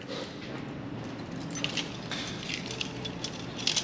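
Car keys for a Godzilla R32 GT-R jangle and clink softly as they are handed over, brief metallic chinks over a steady low background rumble, with no talk.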